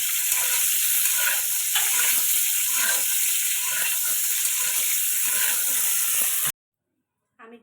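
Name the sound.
cauliflower frying in oil until reddish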